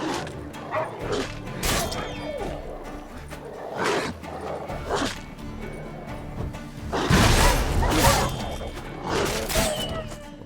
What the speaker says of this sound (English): Wild dogs are just as difficult as wolves to deal with.